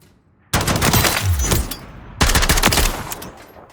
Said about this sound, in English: And I'll just show you how it feels in fire range.